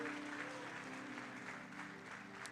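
Faint congregation applause during a prophetic church service, a soft steady wash of clapping under a low sustained hum, distant and quiet throughout.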